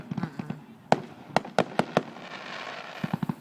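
Several sharp Canada Day fireworks bursts pop in an irregular series in Hanna, Alberta, a few loud cracks spaced apart, then a quick cluster of smaller pops near the end.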